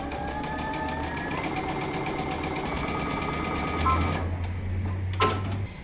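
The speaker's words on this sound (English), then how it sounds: "we're going to stitch it down using a 1/4 inch seam allowance" Sewing machine stitching a pocket onto dress fabric with a quarter-inch seam, a rapid steady needle chatter running for about four seconds, then stopping, followed by a low hum and a brief clunk.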